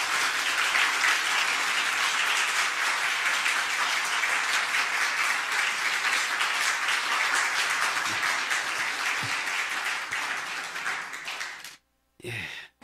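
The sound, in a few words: applause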